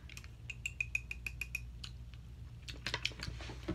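A tiny toy whisk from a kid's kitchen playset beating chocolate chip pancake batter in a small bowl: quick, even ticking taps against the bowl, then a looser flurry of clicks, close and quiet over a low hum.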